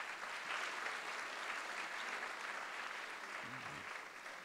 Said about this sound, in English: You can give him a round of applause, too.